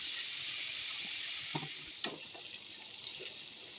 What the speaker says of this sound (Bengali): ফুটন্ত তেলে ময়দা দিয়ে চিকেন ফ্রাই